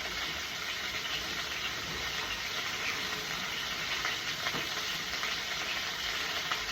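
Chopped garlic sears in a pan over high heat, giving a steady, dense sizzling hiss that holds at an even level throughout with no talking.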